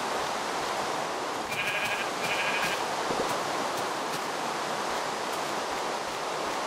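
A Minecraft sheep bleats in a few short, thin, wavering calls, moderately close over a steady hiss of ambient wind-like noise, with a couple of small clicks afterward and no talking.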